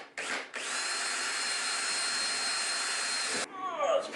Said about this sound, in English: I need to drill another hole because I got one for that switch.